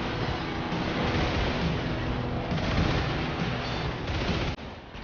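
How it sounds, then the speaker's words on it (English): Homing missiles launch in a Twisted Metal vehicle battle as a dense, loud barrage of rapid bursts and rumbling blasts that runs continuously, then drops suddenly near the end, with no voices. "Oh, homing missiles."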